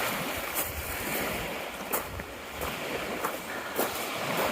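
Wind buffets the microphone on a lake beach while small waves lap steadily nearby, with a few soft splashes standing out above the broad, constant rush.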